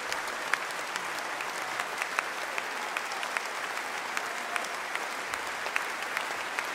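Sustained applause from a packed large hall at Tivoli Vredenburg in Utrecht after a Vivaldi Gloria performance, dense steady clapping filling the room without pause.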